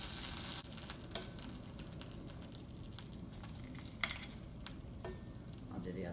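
A vegan banana egg roll fries in a cast iron skillet on high heat, giving a steady close sizzle with a few sharp ticks and pops throughout.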